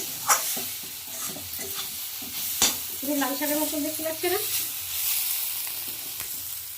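Red amaranth greens sizzle steadily in a hot pan while a utensil stirs and scrapes through them in repeated strokes. Someone speaks briefly over the frying.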